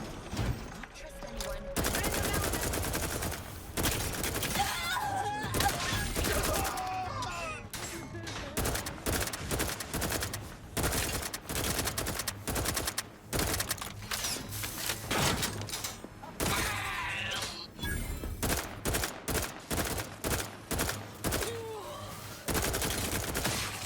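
Rapid gunfire in The Outer Worlds 2, a long dense stream of sharp shots and bursts with brief pauses, loud and close, with a voice speaking briefly among the shots.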